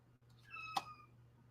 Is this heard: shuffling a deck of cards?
no